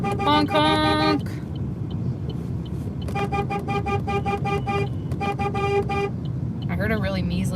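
Car horns blare at a Moose Jaw to Regina protest convoy, in repeated sustained honks with short gaps, one thinner horn near the end, all over constant road noise and passing traffic.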